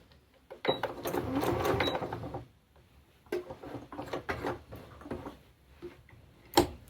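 A sewing machine stitches around a zip pocket corner, a rapid mechanical run of about a second and a half, then a pause and shorter bursts of stitching with knocks and clicks from turning the fabric, close by.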